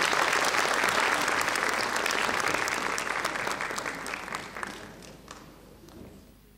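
Audience applause at a book-reading award ceremony as evaluation board members take their places on stage, dense clapping from a large crowd that starts loud and gradually thins and fades out.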